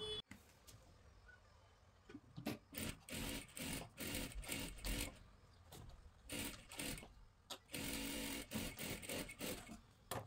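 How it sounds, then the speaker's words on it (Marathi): A sewing machine stitches kurti fabric around in a circle, running in short motorized bursts separated by brief pauses, close and fairly faint in a quiet room. "हे गोल आकारामध्ये आपल्याला इथे शिलाई करून घ्यायचं आहे"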